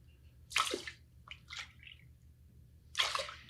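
Water poured into a pot of rinsed basmati rice in a kitchen, heard as splashing bursts of liquid, close and moderately loud, over a low steady background hum.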